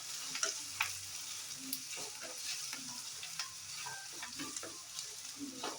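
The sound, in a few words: dried red chillies frying in oil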